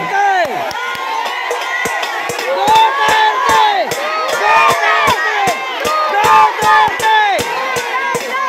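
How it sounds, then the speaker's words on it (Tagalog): A large political rally crowd in Manila chants "Duterte" in loud, rhythmic repeated shouts with cheering, a dense roar of many voices close by. "Ang sigaw ng mga tao ay Duterte!"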